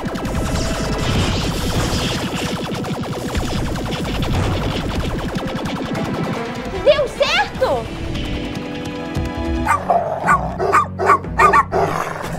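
A dog barks in a series of short, loud barks near the end, over a busy, music-like background with voices earlier.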